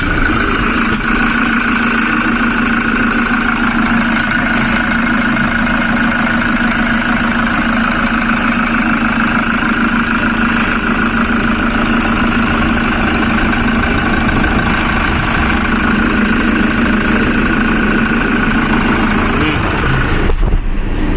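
A 2018 Toyota Commuter van engine with manual gearbox idling, a steady droning hum with a constant low tone running evenly at close range, with a brief disturbance near the end.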